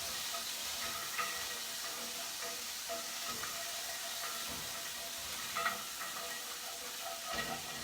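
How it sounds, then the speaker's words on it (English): Wine hisses and sizzles in a hot skillet during deglazing, a steady, fairly faint frying crackle with occasional scraping stirs, and no voices. "You're deglazing."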